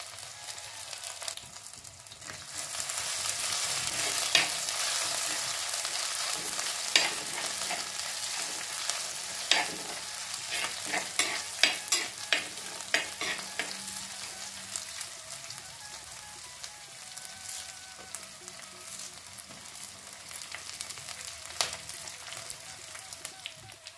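Garlic and ginger sauté in a hot pan with a steady bright sizzle, broken by frequent sharp scraping and stirring clicks over about twenty-four seconds, with no talking.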